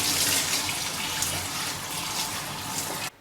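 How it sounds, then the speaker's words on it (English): Tap water runs steadily through a sieve holding soaked quinoa being rinsed, a close, continuous splashing gush that cuts off abruptly at the end. "Now I'm going to drain this water and really wash it with a sieve."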